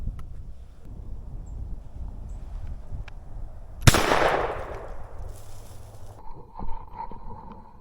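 A single sharp gunshot fired at a squirrel while hunting cracks out mid-clip and rings off into a decaying echo through the woods, with quiet rustling before and after.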